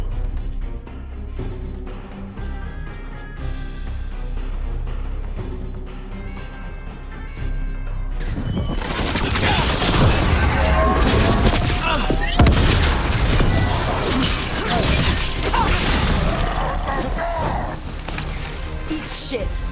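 Gatlock cannons fire in a battle in Dragon Age: The Veilguard, with heavy booming bursts and a dense barrage of gunfire swelling up halfway through, while voices speak over the combat.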